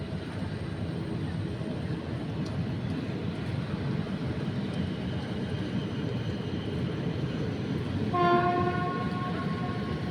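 TLK Hańcza passenger train hauled by an EP07 locomotive rolls through Warszawa Zachodnia, a steady broad rumble of wheels and wagons, with a short horn blast near the end.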